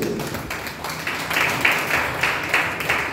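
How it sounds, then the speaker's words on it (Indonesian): A church congregation claps together in praise, a steady broadband patter with faint rhythmic pulses, moderately close and with no voices over it. "Beri tepuk tangan bagi Tuhan Yesus."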